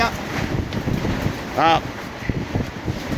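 Strong wind gusts in Beacon Hill Park, heard as steady blustery rumble and microphone buffeting up close, with a brief voice-like tone in the middle.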